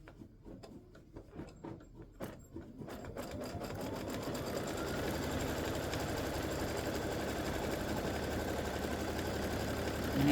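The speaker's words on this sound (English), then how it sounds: "so now it's going to stitch color stop number 7, which is your seam line" An embroidery machine stitches the seam line of a mug rug, starting with a series of separate needle taps that speed up into a steady, close mechanical whir.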